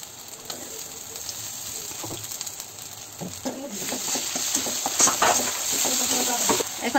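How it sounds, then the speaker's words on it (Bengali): Ginger-garlic paste frying in oil with onions for a duck curry, a soft sizzle that builds louder over time, punctuated by repeated scraping and clattering strokes of a spoon against the pan. "এখন আমি দিয়ে দেবো আদা রসুন বাটা।"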